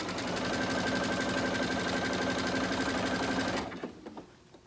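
A sewing machine stitches around the hem of a romper at the half-inch mark, a loud, steady rapid mechanical chatter that runs continuously and then stops abruptly near the end, leaving a few light clicks.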